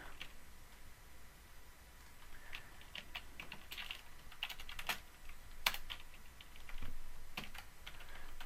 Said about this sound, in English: Whew, some typing.